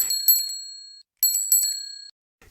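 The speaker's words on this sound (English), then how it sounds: "Peppa rings her bell." A child's bicycle bell rings in two quick double-ding bursts, each fading out, bright and close with nothing else around it.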